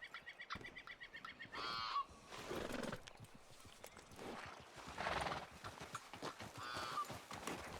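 Horse hooves clip-clop in a rhythmic trot in Red Dead Redemption 2, with a whinny and honking birds mixed in and no voices.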